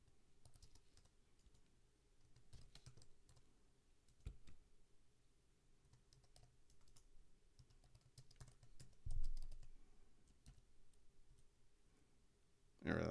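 Fingers tap at a computer keyboard in quick, irregular bursts of soft clicks, faint and close, with a few louder knocks and a brief bump at the end.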